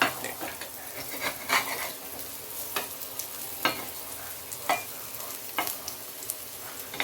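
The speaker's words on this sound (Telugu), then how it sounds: "ఒకవైపు ఫ్రై అయిందనమాట రెండో వైపు ఇలా తిప్పుకోవాలి కట్లెట్" Spinach tikki cutlets shallow frying in a pan, a steady soft sizzle broken by spaced spatula scrapes and taps as they are flipped, close-up and moderately quiet.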